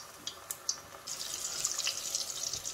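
Water from a tap runs steadily into a bowl of pakora batter mix with oil, starting with a few splashy drips before settling into a continuous close pour.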